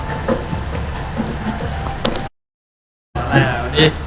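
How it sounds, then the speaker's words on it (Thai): Rain falls steadily outdoors before a running and fitness session, a broad hiss with people talking over it, broken by a brief dropout of near silence. "ฝนทำอะไรเราไม่ได้จริงๆ"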